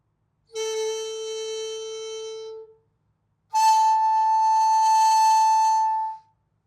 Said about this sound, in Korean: 구멍에서 손을 전부 개방을 한 후 그냥 악기의 소리만 냈을 때의